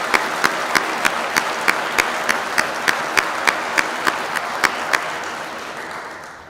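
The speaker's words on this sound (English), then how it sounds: "please offer them a round of applause for their hard work" Audience applause at a detention officer graduation ceremony, steady crowd clapping punctuated by sharp, evenly spaced rhythmic claps, then fading toward the end.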